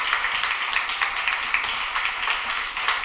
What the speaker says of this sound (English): so give us a big round of applause.